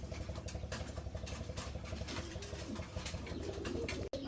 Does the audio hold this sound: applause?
no